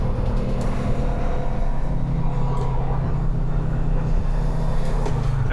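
A 1968 Volkswagen Karmann Ghia cruises at speed in third gear, a loud, steady engine drone and road rumble running without a break.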